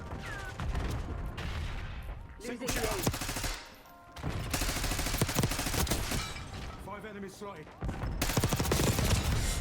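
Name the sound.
gunfight with XM4 rifle in a Call of Duty video game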